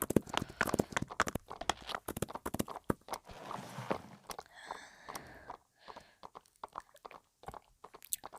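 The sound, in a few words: horse hooves clip-clopping in the video game Roblox Wild Horse Island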